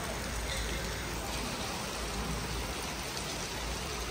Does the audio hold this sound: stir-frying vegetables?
no